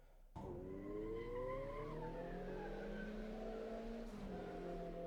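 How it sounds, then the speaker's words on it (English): An old Volkswagen Golf in the Assetto Corsa EVO video game does a front-wheel burnout, its engine revving high as the tires squeal continuously and loudly for several seconds, with the engine pitch shifting as it goes. "front wheel burnouts"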